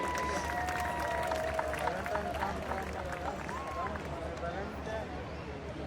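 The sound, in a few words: audience applause for the speaker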